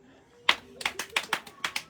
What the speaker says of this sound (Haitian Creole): Badon bel bravo pour nous faire 23 moun,